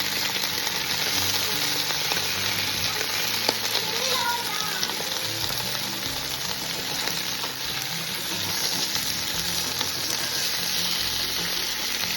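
Marinated fish pieces, coated in salt, turmeric, chilli, cumin and rice flour, frying in hot organic coconut oil in a pan, a steady dense sizzle running the whole time with faint voices now and then.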